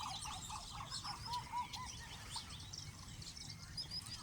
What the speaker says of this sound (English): Sounds of the ibis.